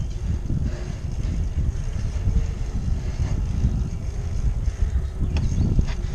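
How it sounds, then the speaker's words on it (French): Strong wind buffets the microphone while cycling uphill, a continuous low roaring rumble with gusty swells throughout, steady and close, with no talking. "Même beaucoup de vent."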